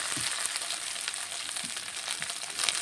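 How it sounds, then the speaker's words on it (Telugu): Ginger garlic paste frying in a pan, giving a close, continuous crackling sizzle with a few faint stirring scrapes. "ఇంకొంచెం పచ్చి స్మెల్ పోయే వరకు ఫ్రై చేసుకోవాలి."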